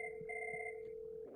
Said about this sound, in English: And now the call's ringing in, we can hear.